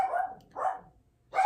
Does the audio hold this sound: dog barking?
yes